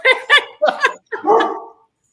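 Dog barking close by, a few sharp, loud barks in quick succession followed by a longer, rougher bark-growl, then silence.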